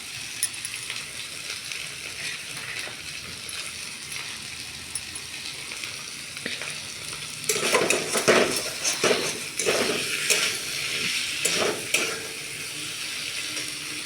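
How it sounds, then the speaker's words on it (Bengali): Vegetables frying in a pan for a vegetarian potato curry give a soft, steady sizzle, then louder bursts of stirring scrapes and metal clatter in the second half before the sound settles back to gentle frying. "ভাজা হোক।"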